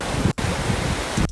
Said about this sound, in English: I called it a waves hat because I used that voice memo here of just the waves hitting the shore